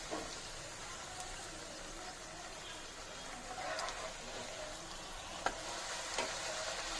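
Poori frying in hot oil makes a steady, close sizzle with faint crackles and a couple of sharp pops, and no one speaks.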